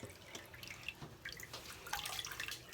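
Water trickles and drips as a basin drains after rinsing a synthetic wig, a quiet, continuous dribbling with small splashy drops throughout.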